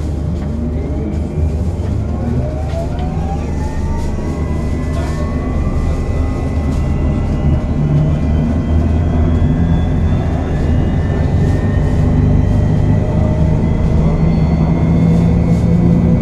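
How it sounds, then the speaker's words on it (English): A hydrogen-powered bus accelerates along the North Circular road, giving a loud, steady drive noise with rising electric whines that climb in pitch over several seconds. "you can hear some nice clean accelerations of these buses"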